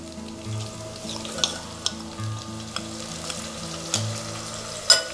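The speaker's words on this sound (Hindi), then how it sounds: "मसाला डालकर चलाते हुए 1 से 2 मिनट भून लें" Spice masala and softened onions frying for green onion and potato curry, a steady hiss with a low hum underneath, broken by scraping stirs and a few sharp clinks of a spoon against the pan.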